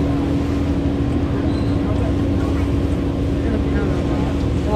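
Steady low engine drone of a boat running on water, continuous and fairly loud, with a faint murmur of voices in the background.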